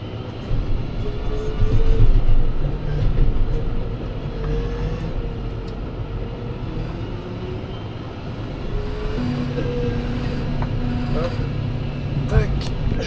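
A Fendt tractor with ErgoSteer drives on a road test, its low engine drone and rumbling tyres steady throughout from inside the cab, with a gear shift change partway.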